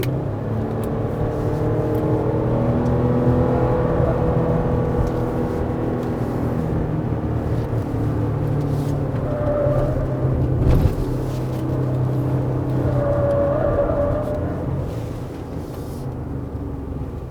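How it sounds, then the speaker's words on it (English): A 2019 Chevrolet Colorado pickup cruises on the highway, its cabin filled with a steady low engine drone and road rumble, with gentle swells as the revs shift slightly. "Right now we're driving on the highway with Colorado and feels very stable and also very nicely isolated."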